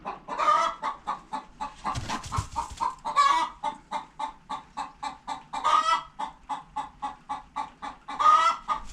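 Hens cluck steadily and rhythmically nearby in a continuous run of short, repeated calls, with a few louder, more agitated bursts.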